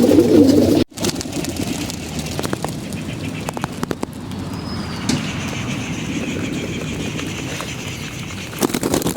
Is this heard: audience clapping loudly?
no